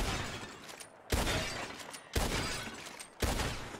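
Three sharp, loud gunshots spaced about a second apart ring out in a video game bottle-shooting contest, each with a short echoing tail and no talking in between.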